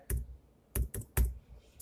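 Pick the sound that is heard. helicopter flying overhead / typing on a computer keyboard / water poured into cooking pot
typing on a computer keyboard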